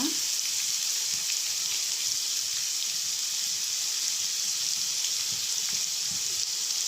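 Grated carrot fries in a pan for carrot rice, giving an even, unbroken sizzle that holds at a constant level throughout, close and moderately loud, with no voices and no distinct stirring knocks.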